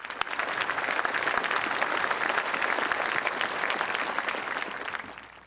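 A crowd at a 2013 South St. Paul high school graduation ceremony applauds steadily and densely throughout, a continuous wash of clapping that tapers slightly at the end.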